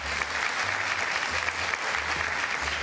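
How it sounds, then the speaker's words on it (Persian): A studio audience at an Iranian comedy show applauding steadily, a dense, even wash of clapping close up throughout with no break. "تشویقشون کنید"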